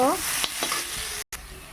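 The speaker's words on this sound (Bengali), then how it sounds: "আমার আলুগুলো ভাজা হয়ে গেছে" Potatoes sizzle steadily in a pan with a constant frying hiss and a few soft stirring knocks, nobody speaking.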